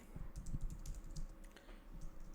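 Computer keyboard keys tap out code in quick irregular bursts, close and fairly quiet, with brief pauses between clusters of keystrokes.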